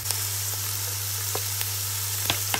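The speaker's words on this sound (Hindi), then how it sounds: "1 मिनट सॉटे करने के बाद इसमें सारी वेजिटेबल्स ऐड कर देंगे और साथ ही मैं 1 टेबल स्पून इसमें विनीगर ऐड करूंगी" Mixed vegetables sautéing with ginger garlic paste and a splash of vinegar in a hot pan, giving a steady broadband sizzle with a low hum beneath and a few sharp stirring clicks.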